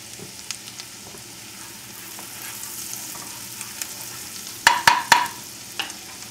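Shallots and garlic frying in butter give a soft, steady sizzle, with a few sharper crackles and pops near the end.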